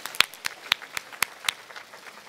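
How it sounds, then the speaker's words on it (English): Sparse, scattered clapping from an audience at an awards event honoring women innovators, with a handful of distinct close claps in an uneven rhythm, thinning out and faint toward the end. "Round of applause."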